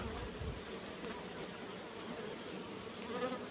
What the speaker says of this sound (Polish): Pszczole jest sporo.